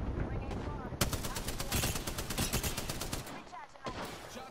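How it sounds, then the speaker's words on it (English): Sustained rapid gunfire from Apex Legends fills most of the stretch, dense and loud with sharp repeated cracks, easing briefly before another burst near the end. "Shots fired, and they're hitting me."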